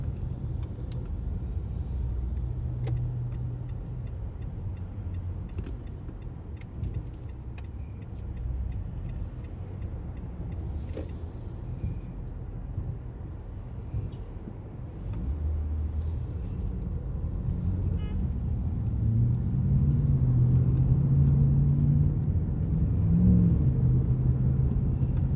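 Busy road traffic in Khobar, with a steady low rumble of cars passing nearby that swells louder toward the end and has occasional faint ticks over it.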